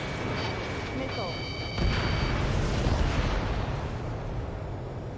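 Missiles and SAM hits explode during an Ace Combat 7 air combat mission: a rumbling burst swells midway and rolls on as a heavy, sustained boom, with thin high tones and a radio-style voice near the start.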